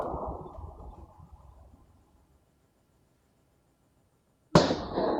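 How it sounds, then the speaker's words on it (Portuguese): Recorded shotgun fire from Santa Catarina plays back: a booming shot's tail fades into near silence, then another sharp, loud blast cracks out suddenly and rings on. "Vocês vão ouvir agora os barulhos da espingarda"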